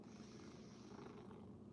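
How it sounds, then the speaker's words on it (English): A cat purrs steadily and close up, a soft continuous rumble with no talking over it, during a relaxed livestream. "Or purr, whatever you want to do. Yeah, purring's good."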